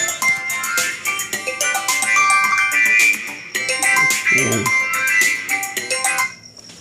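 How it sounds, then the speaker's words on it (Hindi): An incoming call's phone ringtone sounds during a Hindi maths lesson: a bright, repeating electronic melody plays loudly and steadily for about six seconds, then cuts off abruptly. "फोन आ रहा है, एक मिनट।"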